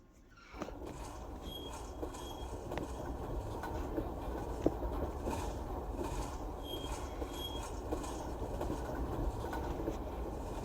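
A freight train hauling empty coal hoppers reverses slowly. Metallic wheel squeals and clanks sound at a distance over a steady rumble, and faint bird calls come through in the background.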